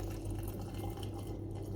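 Boiled tap water poured into a sterilized glass jar, filled about halfway, makes a steady, soft, continuous pour with no break and no voices.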